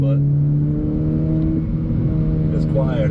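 A Honda Civic with a Skunk2 exhaust drives along, its engine holding a steady hum heard from inside the cabin that shifts pitch mid-way as the revs change, with a voice talking over it.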